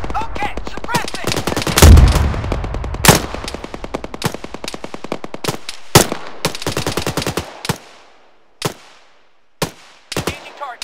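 Suppressive gunfire in a military video game, loud rapid machine-gun bursts followed by sparser single shots and short volleys that thin out toward the end.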